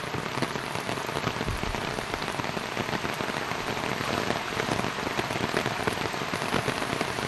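Rain pours down in a steady, dense wash of drops striking surfaces, loud and unbroken throughout with no voices over it.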